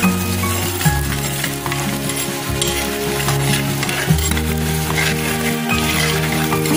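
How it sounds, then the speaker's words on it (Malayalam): Curry leaves sizzle and crackle in hot oil for a Malayalam-style mackerel fish curry, a steady loud frying hiss with stirring scrapes throughout, close up and with no talking. "നമുക്ക് കറിവേപ്പില ഇടാം."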